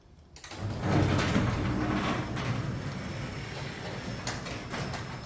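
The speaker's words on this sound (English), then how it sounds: "My garage door is acting up again, and this is what it's doing." Garage door with a faulty roller squeezed between its tracks rumbling along as it moves, a loud rolling clatter that starts abruptly and holds steady, with a few sharp knocks as it bounces on the tracks.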